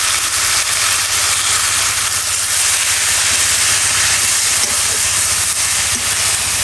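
Leafy greens hit hot oil in a frying pan and give a loud, steady sizzling hiss that runs without a break and without any talking.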